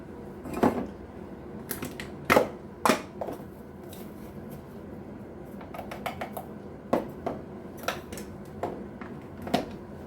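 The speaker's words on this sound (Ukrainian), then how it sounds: "Збиваю вилочкою." A single salted egg is whisked with a fork in a small bowl to make dumpling dough. The fork gives sharp, irregular clinks in quick bursts, with quiet gaps between them.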